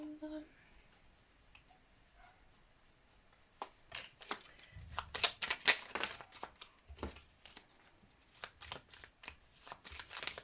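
Petit Lenormand tarot cards being shuffled by hand, in bursts of quick riffling and slapping strokes, close and fairly quiet, with a short bit of faint talk at the start.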